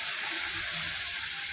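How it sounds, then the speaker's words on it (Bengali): A little water is poured onto vegetables cooking in a pan, making a steady, close, continuous hissing gush that lasts the whole brief moment. "দেখুন সবজিগুলো সেদ্ধ হওয়ার জন্য আমি দিয়ে দেবো সামান্য পরিমাণে জল"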